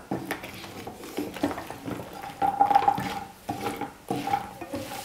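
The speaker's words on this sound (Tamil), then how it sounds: "சாஸோடு சேர்த்து நான் இட்லியை நல்லா மிக்ஸ் பண்ணி கலந்து கொடுத்துக்கிட்டேன்" Fried idli being tossed and stirred with sauce in a pan, with irregular scraping and clinks of a spoon against metal, close by and moderately loud, plus a faint sizzle.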